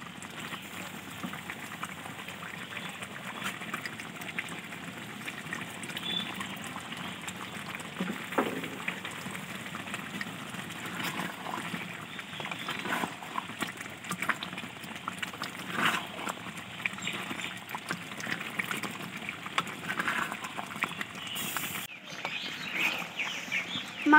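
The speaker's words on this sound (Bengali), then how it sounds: "কুড়ি মিনিট ধরে ভালো করে মাংসটা কষিয়ে নেব।" Chicken sautéing with biryani spice paste in a pot, a steady close sizzle and bubbling that runs throughout with faint stirring scrapes and a brief pause near the end.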